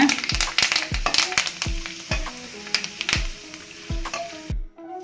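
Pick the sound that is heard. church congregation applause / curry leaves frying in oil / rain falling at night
curry leaves frying in oil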